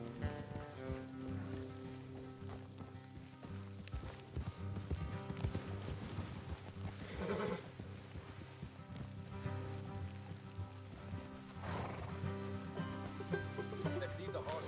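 Horses' hooves clip-clopping steadily on a path in the video game Red Dead Redemption 2, with soft rustling and ambient music underneath throughout.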